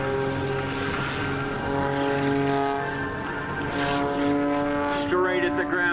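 A propeller-driven aerobatic plane drones steadily through a flip top maneuver, its engine tone shifting slightly in pitch and then rising near the end, sustained and moderately loud at a distance.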